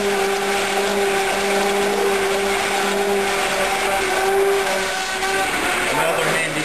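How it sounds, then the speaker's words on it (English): An immersion blender whirs steadily as it emulsifies a mixture for reverse spherification, a loud continuous motor drone with a sustained pitch that holds throughout, close by with no pauses. "Another handy tool in molecular gastronomy. Yes. Called immersion blender."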